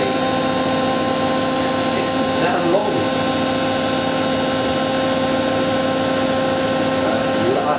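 A Miele W562 washing machine spins at roughly 1100 RPM on a 40ºC wool wash, giving a loud, steady whine and rumble with sustained tonal hum throughout, close and constant with no breaks.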